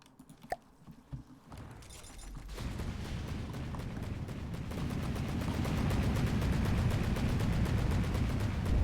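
Big guns fire in the From The Depths naval combat game, a few sharp early shots building into a dense, continuous barrage of heavy gunfire that grows louder toward the end.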